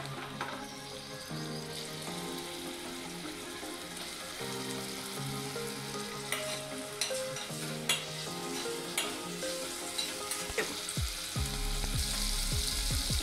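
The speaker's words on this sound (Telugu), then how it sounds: "మనం ఇందులో పన్నీర్ వేసి ఫ్రై చేసుకుందాం." Paneer frying in a little hot oil in a kadai, a steady crackling sizzle with occasional stirring clatter, close and fairly loud throughout with no talk.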